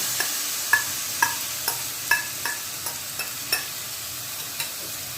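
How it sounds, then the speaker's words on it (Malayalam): A rava and banana mixture being stirred in a frying pan: a regular series of sharp spoon taps and scrapes, roughly two per second, over a faint sizzle with no talking. "പിന്നെ നല്ലപോലെ മിക്സ് ചെയ്ത് കൊടുക്കാം നമുക്കിതിലേക്ക് പഴമില്ലേ പഴം ചേർത്ത് കൊടുക്കാം"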